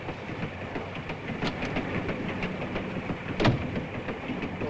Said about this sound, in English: Nothing unusual for a European train.